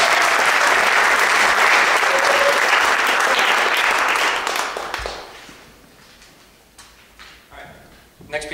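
Loud, dense audience applause at a university jazz festival concert rolls steadily for several seconds, then quickly fades to scattered claps and a few light knocks.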